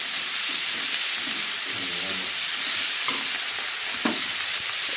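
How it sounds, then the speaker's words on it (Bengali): Onion paste frying in oil in a wok, a steady broadband sizzle with brief stirring scrapes, close and fairly loud, with no talking. "কড়াইতে তেল দিয়ে দেবো, পেঁয়াজ বাটাটা দিয়ে দেবো, পেঁয়াজ তেলে ভাজা ভাজা করে দেবো।"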